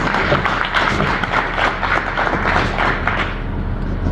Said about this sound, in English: A big round of applause for our both chief guests.